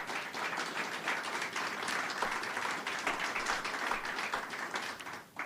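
An audience at a legislation signing on prescription drug affordability breaks into steady, dense applause that holds for about five seconds before quickly dropping away.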